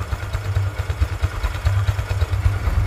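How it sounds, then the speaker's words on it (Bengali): Near and fairly loud, a 2022 Hero Ignitor motorcycle idles in a brief low, pulsing throb with a steady rhythmic beat and no talking. "আবার শুনুন রানিং অবস্থায় গাড়িটির সাউন্ড"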